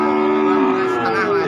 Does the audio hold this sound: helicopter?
no